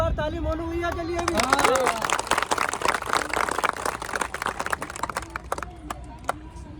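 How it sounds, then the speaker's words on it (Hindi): A crowd at a street gathering applauds for Monu bhaiya, with dense, loud clapping rising after a voice and then thinning out. Voices and crowd chatter continue beneath the clapping. "और एक बार ताली मोनू भैया के लिए भी।"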